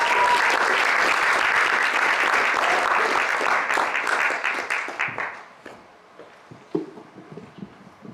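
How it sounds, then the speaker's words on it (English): An audience at a Poetry Out Loud recitation event claps loudly and densely, then the applause thins out and fades after about five seconds, leaving scattered claps and footstep-like knocks in a quieter room. "let's have a big round of applause for Gracie Reagan"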